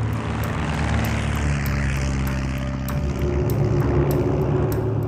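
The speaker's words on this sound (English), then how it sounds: "378 bombers took off from their bases." American WWII bomber aircraft engines, a steady deep propeller drone with layered low harmonics that holds evenly throughout, loud and close with no talk over it.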